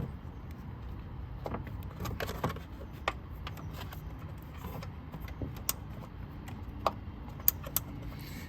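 A ratchet wrench undoes a bolt in a tight space on a Ford F-150 truck, giving scattered sharp metallic clicks and small clanks over a quiet background, close by and irregularly spaced.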